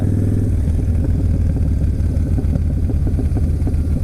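Deep, throaty exhaust rumble of a Yamaha Bolt motorcycle with an aftermarket Python exhaust at idle, loud and close, with uneven low pulses and no voices.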